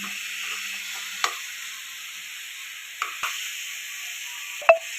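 Garam masala is stirred into a sandwich filling frying in a pan, with a faint, even sizzle beneath. A few isolated spoon taps and scrapes are spaced apart, and a sharper knock comes near the end.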